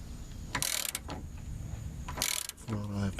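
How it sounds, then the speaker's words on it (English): Ratchet wrench fitted with a 3/4 inch socket being worked to tighten, giving short bursts of clicking at two separate moments, fairly close, with a low hum in the background. "now I'm going to take my ratchet. It's got a 3/4 inch socket on the end of it"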